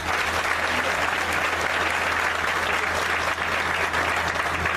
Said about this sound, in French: vous pouvez applaudir pour lui